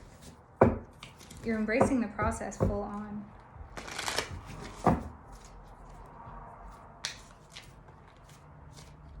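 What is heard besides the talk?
tarot cards being shuffled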